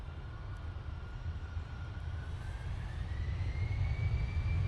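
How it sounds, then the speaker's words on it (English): A KLM Airbus A321neo coming in to land, a steady distant jet rumble with a faint rising whine that slowly grows louder, no voices. "KLM, about to come in, using their A321 Neo"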